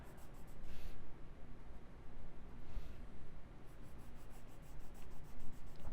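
A burnt ochre coloured pencil scratches softly across paper in quiet, uneven strokes, with brief pauses between bursts of shading.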